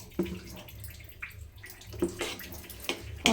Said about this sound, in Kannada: ಸ್ವಲ್ಪ ಲೈಟಾಗಿ ವಾಟರ್ನ ಹಾಕ್ಕೊತೀನಿ